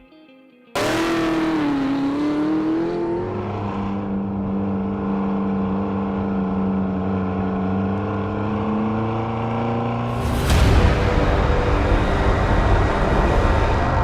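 Chevrolet Camaro SS ZL1 1LE engine starts and idles with a deep rumble, then revs sharply near the end, loud and close.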